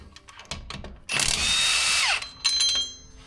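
A 1/2 inch air impact gun on a Toyota car wheel hub opens with a few short ticks, then a loud sustained whir of about a second that winds down, followed by another short burst.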